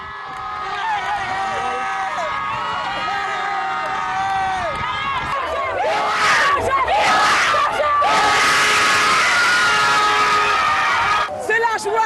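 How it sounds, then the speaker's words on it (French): Supporters at a race finish line cheer and shout rhythmic battle cries and slogans, a loud, dense crowd chant that swells into louder roaring midway and continues throughout. "vous avez chacun vos cris de guerre et vos slogans, et c'est ce qui fait l'ambiance sur la ligne d'arrivée"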